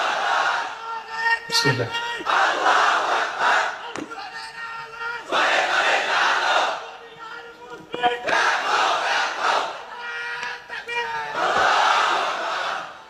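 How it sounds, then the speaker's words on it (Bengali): A large crowd at a religious sermon gathering chants takbir in loud repeated waves, roughly four surging shouts separated by brief pauses, with a single voice speaking between them. "এই হলো তাকবীর।"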